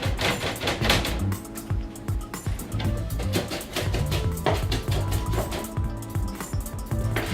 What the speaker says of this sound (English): As I'm chopping, you can hear how fresh these vegetables are.